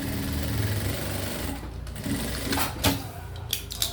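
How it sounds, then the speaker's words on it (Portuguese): A sewing machine runs a safety seam in steady, close, fast mechanical stitching, then a few louder clicks and bumps near the end. "Eu passo uma costura de segurança aqui. Passo uma outra costura aqui."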